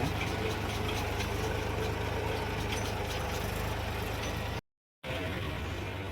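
A tractor engine idles steadily at close range, a continuous rough rumble with a low droning hum, broken by one brief gap of silence near the end.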